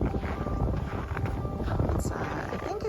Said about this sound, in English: She's pretty windy today.